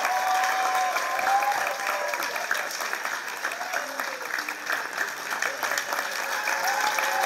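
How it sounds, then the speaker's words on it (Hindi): Theatre audience at a drama school play applauds the director as he is welcomed onstage, dense sustained clapping from a full room throughout, with an announcer's voice occasionally over it. "जोरदार तालियों से उनका हम स्वागत करेंगे।"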